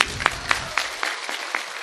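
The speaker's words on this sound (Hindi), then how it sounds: "एक बार जोरदार ताली गुरुजी को," An audience applauding a guru gives a few loud, evenly spaced claps, sharp and close, with a steady bed of clapping continuing between them for under two seconds.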